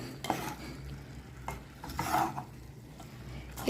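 A spoon stirs bitter gourd curry with coconut milk in a pan, making soft, close scrapes and clinks over a low simmering sizzle, with a few louder strokes.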